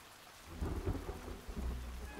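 Thunder rumbles deep and heavy over steady rainfall in a Boonie Cubs cartoon, with two swelling rolls over the constant patter of rain and no voices.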